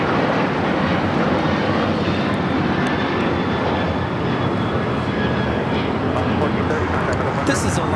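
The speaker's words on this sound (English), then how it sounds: "This is Alaska Airlines 1430 taking off to Los Cabos on the 737-900ER." An Alaska Airlines Boeing 737-900ER takes off at LAX, its engines a loud, steady broadband roar held throughout, with people talking over it.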